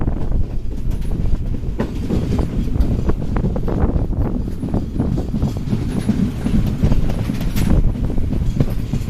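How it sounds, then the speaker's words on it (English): A train rumbles and clatters along the rails in a steady, close roar as it gradually slows approaching a station in Sri Lanka, with some wind noise and no talking. "the train is still slowing gradually"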